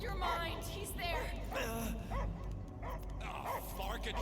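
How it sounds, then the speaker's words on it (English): Dog barking and yipping in the Guardians of the Galaxy video game, a few short barks rising over busy game sound and overlapping character voices. "I hear only barking."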